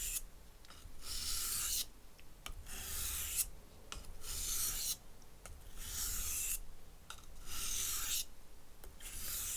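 A Martha Stewart kitchen knife scraped along a coarse 1000 grit whetstone in repeated close rasping strokes, about five long passes separated by brief pauses, with no talking.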